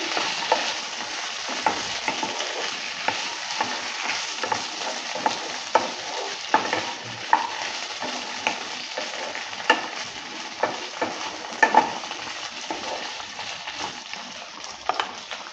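Fried squash and potato being stirred in a pan, a steady sizzle under repeated scraping strokes of a spoon, close and moderately quiet, with no voices.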